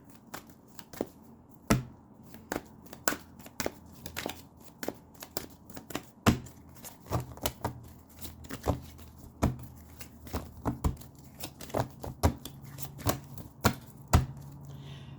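Tarot cards being shuffled by hand, a run of crisp riffling snaps and soft slaps in an irregular rhythm, close to the listener and fairly quiet, with no talking.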